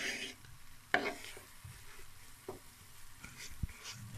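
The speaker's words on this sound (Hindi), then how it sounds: "इसको मुसलसल चम्मच से अच्छी तरह मिक्स कर लेंगे ताकि इसमें कोई गुठली बाकी ना रहे" A spoon stirs melting khoya in a pan for carrot barfi, scraping and clinking in irregular strokes against a low sizzle, close and moderately loud with no voices.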